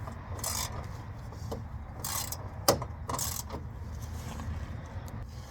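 Short ratcheting and rasping bursts come from a hand tool loosening two 13mm bolts on a 2020 Dodge Charger V6 during radiator replacement, with one sharp metallic knock midway, all fairly quiet.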